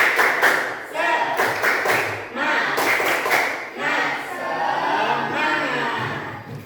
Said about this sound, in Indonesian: Kalau siap, maka kita harus tepuk dulu, tepuk semangat.